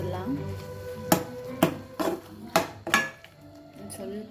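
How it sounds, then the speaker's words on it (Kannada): A metal lid is lifted on a pot of softened tomatoes cooking for pickle, giving a run of sharp clanks and clatters at close range, about five knocks spaced through the moment. "ಲಿಡ್ ಓಪನ್ ಮಾಡಿ ನೋಡ್ತಾ ಇದ್ದೀನಿ"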